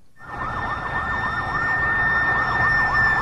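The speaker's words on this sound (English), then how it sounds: "Mary Jouse and Ling Young were in the back of an ambulance being driven away from the foot of the South Tower." An ambulance siren wails in a steady rising-and-falling pattern, loud and close, with a constant tonal hum beneath it and no voices.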